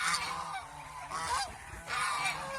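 Geese on a goose farm honk loudly in three harsh bursts, close by, with more flock calls mixed in.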